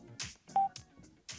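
HJC Spirit motorcycle helmet intercom volume up and volume down buttons give a few short electronic beeps and clicks, spaced irregularly and heard alone.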